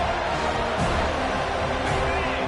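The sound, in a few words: stadium crowd noise at football game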